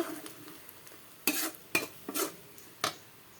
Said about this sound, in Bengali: আর এদিকে এই যে পেঁয়াজ দিয়ে দিয়েছি তেলের মধ্যে।